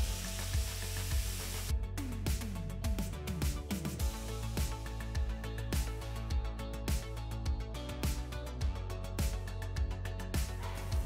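Chopped tomatoes frying with browned onions and ginger garlic paste for tawa paneer, a soft sizzle under repeated rhythmic scraping and stirring strokes against the pan, fairly quiet and close.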